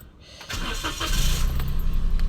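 Toyota Wigo with a persistent check-engine fault and a newly replaced purge valve, cranking briefly and catching, then settling into a loud, steady close idle.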